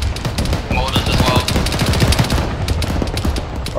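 Rapid bursts of automatic gunfire and shots crackle continuously through a busy military video game firefight, dense and loud throughout, with faint voices beneath.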